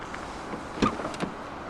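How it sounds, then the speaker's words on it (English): A 2014 MINI Cooper S Hatch 3-door's frameless power window makes a brief, soft electric motor whir as the glass dips slightly when the door opens, with a faint click from the door. "the windows dip down a little bit to clear for height"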